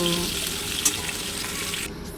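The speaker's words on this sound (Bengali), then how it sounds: "এখানে আমি কাঁকরোল ভাজাটা চাপিয়ে দিচ্ছি" Spiny gourd (kakrol) frying in a pan, giving a steady broadband hiss and sizzle with one brief clink near the middle before the sound drops off abruptly near the end.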